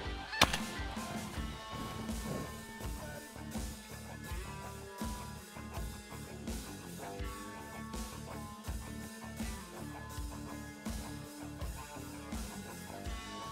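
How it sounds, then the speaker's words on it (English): Snow geese honk throughout a waterfowl hunt, a dense, busy chorus of overlapping calls with a sharp report near the start, steady and loud from start to finish. "Take that snow goose, take that goose."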